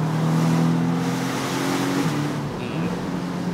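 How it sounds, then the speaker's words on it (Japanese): Porsche 718 Boxster S four-cylinder engine revving steadily up close, a continuous loud drone whose pitch rises and then drops back about two seconds in, with no talking. "この4気筒もやっぱりさすがポルシェですね"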